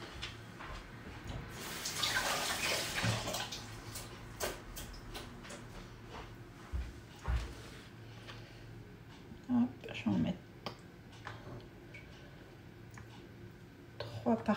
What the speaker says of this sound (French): Je les repasse un petit coup sous l'eau.